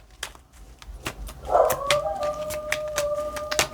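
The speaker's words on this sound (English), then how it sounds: "It's my dog howling." A pet beagle hound lets out a low, drawn-out howl that starts partway through and holds a steady wavering pitch to the end, close to the microphone, with a few sharp clicks and taps around it.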